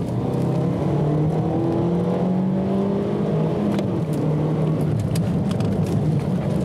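A car on a race track under hard braking and cornering, its engine droning loud and close with shifting tones and steady road and wind roar throughout.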